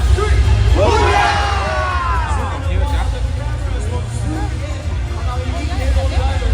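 A dense parade crowd at Singapore's National Day Parade preview rehearsal, with spectators around Marina Bay, roars a loud unified hoo-yah cheer, sustained babble and whoops filling the space with no single voice standing out.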